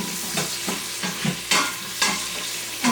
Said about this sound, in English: So we are going to cook these mushrooms for just a minute.